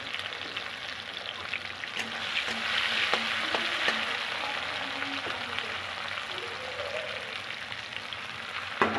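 Cumin seeds and bay leaf tempering in hot oil with a large tomato added, frying with a steady bright sizzle and occasional stirring clicks from a utensil, close and continuous.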